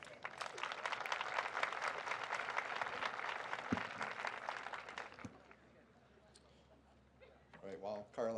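Applause from an audience at a school opening convocation, a dense crowd clapping for about five seconds before fading out, followed by quieter room sound and a voice beginning to speak.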